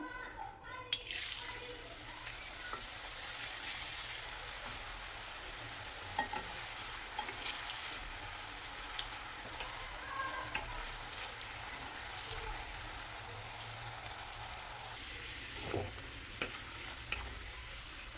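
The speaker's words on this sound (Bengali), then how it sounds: "এবার তেল গরম হয়ে গেছে এবার অল্প অল্প করে আমি ভেজে নিব" Potato chips frying in hot oil, a constant faint sizzle with occasional small clicks and knocks, plus a stretch of running water near the end; no speech is heard.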